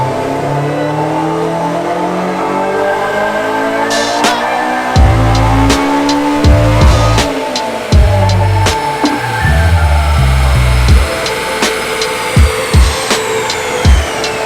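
Honda S2000 fitted with a K-series engine on a dyno, revving hard through a pull with a loud, sustained rising drone and repeated sharp pops and bangs from the exhaust toward the end.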